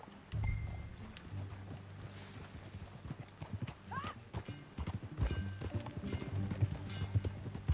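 Horse hooves clip-clopping in the video game Red Dead Redemption 2, a rhythmic plodding gait with a brief whinny partway through, heard with quiet game ambience.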